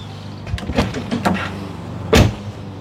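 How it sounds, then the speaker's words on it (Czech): The motorised door handles of a modified Tesla Model Y extend and a car door is opened. Several short mechanical whirs and clicks are heard close by, ending in a louder latch clunk near the end. "si ukážeme, jak to otevřeme. Máme tady samozřejmě automatické kliky"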